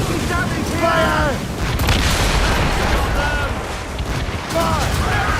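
Ship cannons firing during a naval battle in Assassin's Creed Rogue, with repeated heavy booms over a constant roar of battle noise while a crew shouts orders.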